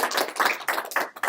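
A small group at a workshop gives a short round of uneven, close clapping, individual hand claps audible in a brief ragged burst.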